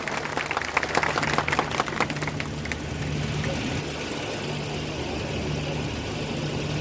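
An audience at a Baghel Dhangar community conference in Gwalior applauds to welcome Gopal Datta. The burst of clapping is strongest at first, then thins into a steady wash of crowd noise with a low, constant hum underneath.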